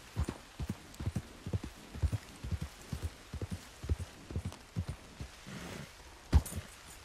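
Horse hooves clip-clop at a steady walking rhythm in Red Dead Redemption 2 Online, loud and close, carrying on alone throughout with one heavier thud near the end.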